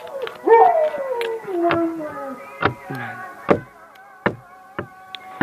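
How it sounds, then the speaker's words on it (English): An excited puppy whimpers and howls nearby, with rising and falling whines at first, then a string of short sharp yips and cries. "Watching a puppy up here. He's really excited. He wants to get in."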